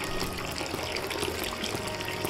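Water leaking in the video game Dead Synchronicity, a soft steady trickling and dribbling wash, faint and continuous, with no talk.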